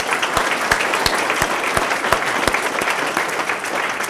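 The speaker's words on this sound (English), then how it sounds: "Let's give David a round of applause." Applause for a speaker at the Grand Canyon Prep 2011/12 graduation and end-of-year ceremony: steady crowd clapping with recurring heavier thumps cutting through, loud and sustained throughout.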